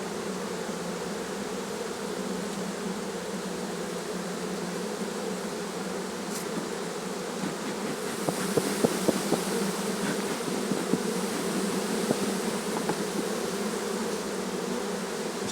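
A dense, steady swarm of honey bees drones loudly and close around an open hive, with sharper buzzes from individual bees passing near, and no voices.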